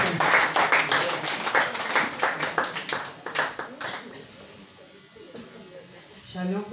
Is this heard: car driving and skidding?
no